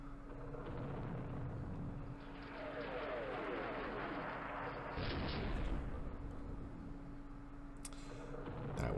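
Artillery strikes in the war game Campaign Series Middle East sound as deep rumbling booms and crackling impacts, muffled and fairly faint, with someone talking throughout.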